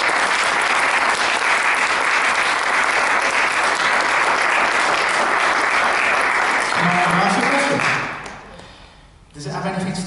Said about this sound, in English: And realise this round of applause is for you.